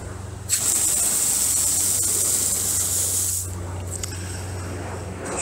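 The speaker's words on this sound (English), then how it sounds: "then we have angle spray." Angle spray setting on a Raaya expandable 50-foot garden hose nozzle gives a bright, continuous hiss of water that starts abruptly, holds steady and close, then briefly dips and resumes.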